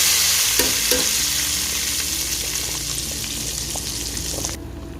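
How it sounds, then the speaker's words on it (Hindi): Browned onion tadka sizzles steadily as it is stirred into masoor dal with mutton, a loud continuous frying hiss with a few clinks of the spoon against the pot, no talking. "बस मैं इसको दाल और गोश्त में मिक्स कर रही हूँ।"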